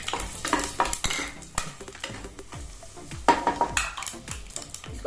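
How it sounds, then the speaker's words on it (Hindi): Whole spices, cardamom, cloves and black cardamom, are stirred in a hot pan, with a steady run of close metallic spoon scrapes and clinks over a soft sizzle and no talking. "उसके बाद हम इलायची, लौंग और बड़ी इलायची डालेंगे। इसको इस तरह से हम चलाएंगे।"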